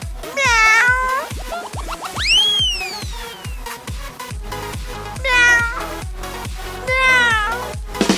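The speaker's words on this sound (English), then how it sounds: "Oh, funny cat." A cat meows repeatedly, several long rising and falling cries close to the listener, over a steady rhythmic tapping beat in the background.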